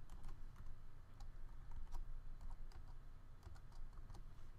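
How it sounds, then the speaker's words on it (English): Light, irregular key clicks from a computer keyboard as a function name is typed in Arduino code, quiet taps over a steady background hiss with no voices. "I'm just going to type blink me."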